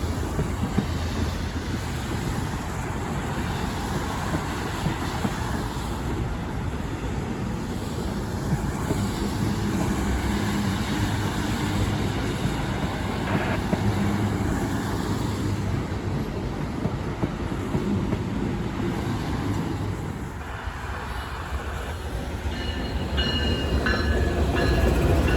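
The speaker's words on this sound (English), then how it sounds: "we saw our next train, which turned out to be Norfolk Southern 39G" A Norfolk Southern freight train rumbles steadily past at close range, its broad roar and rattling wagons continuing without a break, with no voices.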